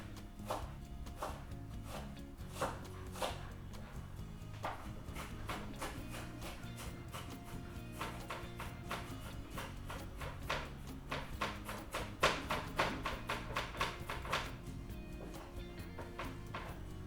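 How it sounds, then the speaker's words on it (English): A knife finely chopping onions on a cutting board for crab ceviche, quick rhythmic taps in irregular bursts over a musical background, quiet and close, with no talk. "we're going to finely chop our onions so everything is nice and consistent in the bowl"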